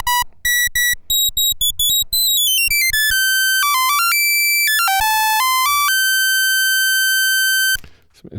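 Bright sawtooth oscillator of a Dreadbox Nyx v2 analog synthesizer played at high pitch, starting with staccato blips, then gliding and stepping between piercing sustained tones, loud and alone before cutting off.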